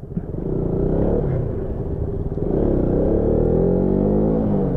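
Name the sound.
racing motorcycle pulling away at a green light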